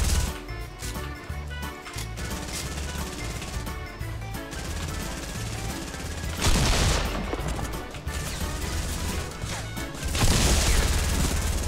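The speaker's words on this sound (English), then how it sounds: "Oh, we're being shot at by another team, too!" Rapid bursts of gunfire from a rival team in the Fortnite video game, sustained automatic shots with a few louder impacts and booms, dense and fairly close over game music.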